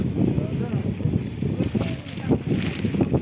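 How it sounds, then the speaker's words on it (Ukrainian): Wind buffets the microphone in steady low rumbles and gusts at an outdoor flea market in Kyiv (Petrivka), with water sloshing nearby and occasional voices mixed in. "Вітер сьогодні."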